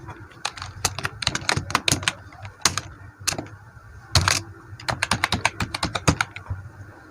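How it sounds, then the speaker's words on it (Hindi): Fingers type a password on a computer keyboard in quick, uneven bursts of crisp clicks across about seven seconds, with a short pause midway and a heavier cluster of keystrokes near the end. "तो चलिए मैं एक पासवर्ड सेट कर लेता हूँ। जैसे मैं टाइप करूँगा"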